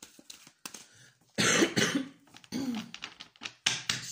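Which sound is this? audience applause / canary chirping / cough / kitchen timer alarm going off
cough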